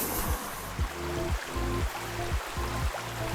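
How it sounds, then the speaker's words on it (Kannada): Steady rush of water flowing from an electric motor pump's outlet over a low, rhythmic mechanical pulsing that repeats about every half second. "ನೋಡಿ ಈಗ ನೀರು ಬರ್ತಾ ಇದೆ"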